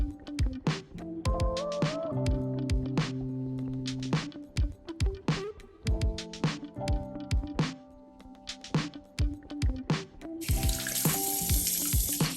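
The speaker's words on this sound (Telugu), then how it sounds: "బేసన్తోనే ఫేస్ వాష్ చేసుకున్నాను" Water runs steadily from a tap into a sink while a face is washed with gram flour mixed with water, with splashes and clicks and a faint tonal hum underneath.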